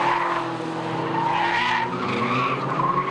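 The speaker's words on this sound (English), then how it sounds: "J.M. Littman gyrating there under pressure just as he'd made that move to take a place at Redgate." A Caterham Roadsports race car spins under pressure at Rockingham's Redgate corner, with loud tire skidding and squealing over a revving engine, sustained and close for several seconds.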